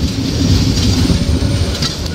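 Korotoa Express train runs toward Tista Junction in light drizzle, a loud, close, steady rumble of wheels and carriages lasting a couple of seconds.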